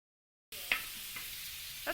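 Onions caramelizing on a hot griddle at a holiday brunch give a steady, soft sizzle that starts abruptly after a moment of silence, with a few light utensil knocks on top.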